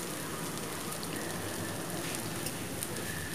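Garlic and onions sautéing in a pan, a steady soft sizzle and crackle like light rain, fairly quiet and continuous with no voices.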